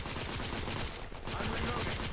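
Dense, continuous gunfire in The Order 1886, a Victorian-era shooter, with rapid overlapping shots forming a steady loud barrage throughout.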